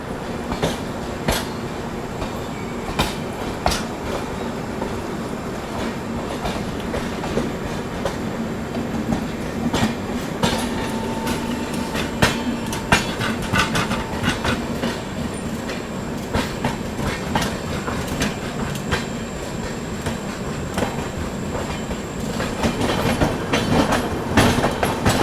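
The 12621 Tamil Nadu Superfast Express rushes past on an Indian railway line, steady loud rumbling with rapid clickety-clack wheel beats over the rail joints throughout, close by and continuous.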